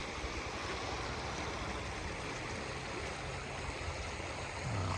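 Water flows steadily along a small channel through green village land, a continuous close rushing wash that holds evenly throughout with no voices.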